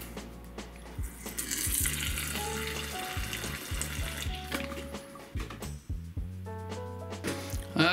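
Water is poured into a tarantula's enclosure, a soft, steady trickle and splash that runs for several seconds at low volume with faint background sounds.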